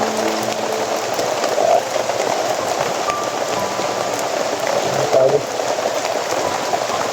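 Very heavy rain pours steadily onto surfaces, a dense, loud, unbroken hiss of drops with no let-up.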